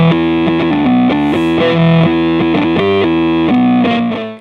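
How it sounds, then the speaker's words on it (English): Guitar run through a Cosmodio Glitch Witch fuzz pedal set as an octave fuzz, loud, buzzy sustained notes stepping through a melodic line with a doubled upper octave, played alone without talk. "Up next we have an example of how you can kind of turn it into like an octave fuzz."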